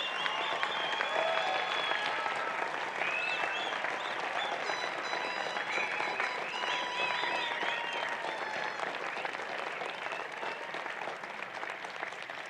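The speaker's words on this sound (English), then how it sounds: "A round of applause for the graduates" A large convocation audience at a Trent University graduation ceremony applauds the graduates with dense, sustained clapping that holds steady and loud throughout, with a few faint whistles or cheers rising above it.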